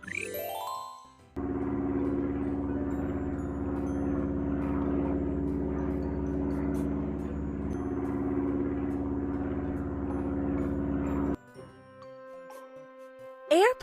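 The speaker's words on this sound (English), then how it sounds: "Airplane is a vehicle designed for air travel that has wings and one or more engines." Propeller airplane engine from a kids' educational game drones steadily and fairly loud for about ten seconds, with a low rumble and a chime-like tone at the start and end, and no one talks over it.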